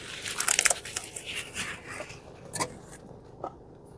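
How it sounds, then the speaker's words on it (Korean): Chewing and lip-smacking while eating close to a microphone inside a taxi, several wet crunchy bursts and clicks with brief quiet gaps between them. "입을 닫고 먹어도 이게 쩝쩝 소리가 나요"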